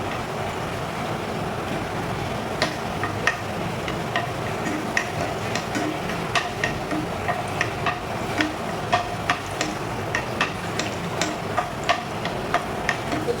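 Cashew nuts fry in hot ghee with a steady bubbling sizzle, while a spoon makes regular light ticks and scrapes against the pan as they are stirred, close and continuous.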